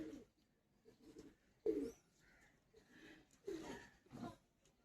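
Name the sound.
Andra pigeon cooing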